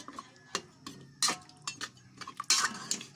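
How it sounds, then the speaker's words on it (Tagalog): A spoon stirring boiling pork ribs biryani in a pot, giving irregular metallic scrapes and clinks against the pot with a few louder knocks, close and without talk. "Haluin natin para makuluan."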